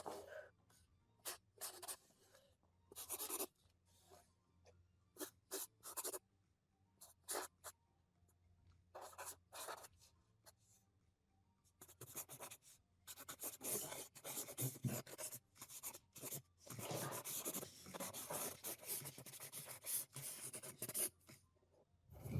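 Pencils scratch and scribble on paper during a timed drawing contest at a BABSCon 2024 convention panel, a quiet, irregular run of short strokes that grows denser and busier toward the end.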